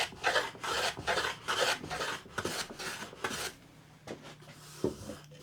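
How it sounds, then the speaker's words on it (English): Hand smoothing plane shaping a wooden bullnose edge, with a series of quick rasping strokes in an even rhythm, close and clear, thinning out to a few scattered strokes toward the end. "I'm going to come in with the smoother now"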